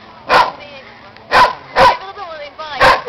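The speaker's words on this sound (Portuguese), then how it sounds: "O cachorro olhando pra cá." A dog barks four times in short, loud bursts at a steady rhythm, close by, with a faint whine between barks.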